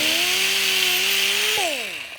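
An angle grinder fitted with a wire wheel spins against a fuel cut-off valve part from a 1973 Suzuki TC125, giving a steady high whine that drops sharply as the tool winds down near the end.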